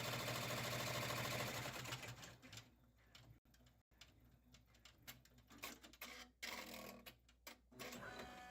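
Sewing machine stitching a custom event bag: a steady mechanical run at first, then broken into short bursts and pauses of stitching with ticking, patterned clicks, fairly faint.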